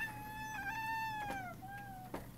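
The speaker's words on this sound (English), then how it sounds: "Yes, you hear both of my cats" Two pet cats meow indoors, a drawn-out wavering meow sliding down in pitch followed by another shorter meow, fairly close but soft, with a faint background hum.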